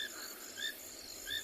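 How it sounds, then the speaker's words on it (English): Frogs call at a waterhole at night during a sunset safari on a South African reserve, a faint, steady chorus of high repeated chirps pulsing over a quiet background, with no voices. "Can hear the frogs calling now as well."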